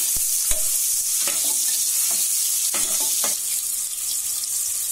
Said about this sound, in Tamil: சேர்த்து இது நல்லா கொஞ்சம் வதக்கிக்கணும்.